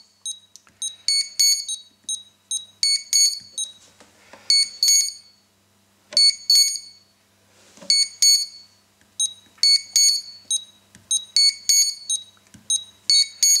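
Bursts of high electronic beeps from a HobbyKing KK2.1.5 quadcopter flight controller during setup, repeating in quick clusters of short tones with brief gaps between groups, close and clear with no talk over them.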